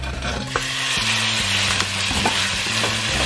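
Lean ground beef sizzles and fries in a pan after cooked onions, with a steady crackling hiss and a few scraping stirs.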